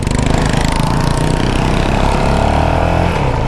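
Small pit bike engine on a one-way motocross track running close and loud with a rapid buzzing drone, holding steady revs without letting up.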